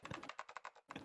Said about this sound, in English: she was typing at an incredible speed, the click-clack of the keys running together like machine gun fire